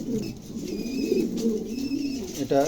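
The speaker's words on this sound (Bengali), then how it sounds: "খুবই চমৎকার একটা কবুতর" A tiger pigeon hen coos in soft, low, rolling phrases close by, the throaty calls running steadily through the moment with a brief louder burst near the end.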